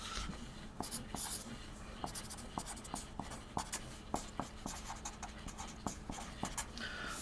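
Pen writing on a fresh sheet of paper as a table is drawn: steady scratching with regular taps and short strokes, close and quiet, with faint whispery sounds in the background.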